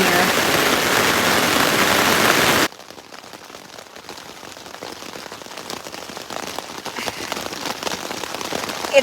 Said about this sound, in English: It's still pouring.